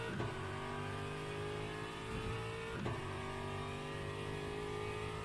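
Aston Martin GT3 car in Le Mans Ultimate at Sebring, a loud continuous engine note rising in pitch as it accelerates, with a couple of quick dips like gear shifts.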